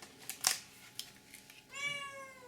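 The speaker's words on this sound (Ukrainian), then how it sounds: "Не звертайте, будь ласка, уваги на мого кота" A house cat lets out one clear, drawn-out meow near the end, close by and fairly loud, after a few soft rustles and taps in an otherwise quiet room.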